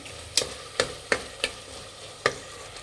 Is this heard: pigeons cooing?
no